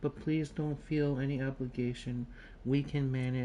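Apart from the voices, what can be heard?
No distinct noise like a dog, phone or traffic.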